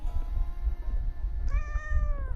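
A cat meows in the video game Wuthering Waves: a single clear, drawn-out mew near the end, with a faint tonal hum and low rumble beneath.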